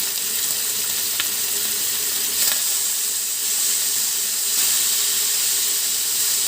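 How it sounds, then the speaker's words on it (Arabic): Steak frying in a hot pan, giving a loud, continuous bright sizzle with steady hiss and faint crackles, close up and without talk. "تتحمر على الجنبين"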